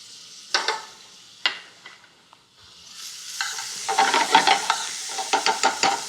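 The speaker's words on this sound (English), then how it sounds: "in a pan with olive oil, I'm going to sweat onions and garlic again" Onions and garlic sweating in olive oil in a pan give a soft sizzle and hiss, with scattered utensil clicks and stirring scrapes growing busier toward the end, close and moderately quiet.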